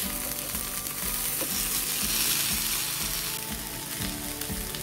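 Bread dhokla fries in oil in a pan over a slow flame, a constant close sizzle with crackling and a few soft scrapes of a spatula, no voices.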